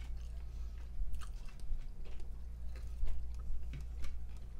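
Someone chews mac and cheese pizza close to the microphone, with soft, wet munching and small irregular crunchy clicks over a low background hum.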